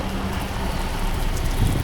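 Steady rain pours down on a Montreal street, a dense, continuous hiss with low rumble, close and fairly loud throughout and no talking.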